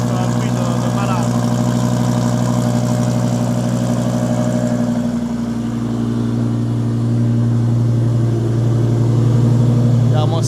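A Toyota Supra with a V10 engine idles close by, a loud steady deep burble with a slight dip midway and a faint rise in revs near the end.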